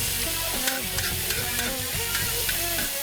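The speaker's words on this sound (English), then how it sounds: "Get these onions and the peppers, get all the flavors all in here" Blackened flank steak with peppers and onions sizzles loudly on a FireDisc grill, with constant close frying and tossing and scraping as the pieces are stirred. No one talks.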